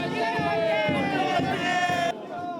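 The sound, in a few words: juniors cheering departing seniors with applause and fanfare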